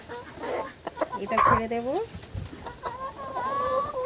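Village chickens squawk and cluck in short bursts as they are chased and grabbed by hand, a clear sliding call standing out midway, with a person talking over the flapping commotion close by.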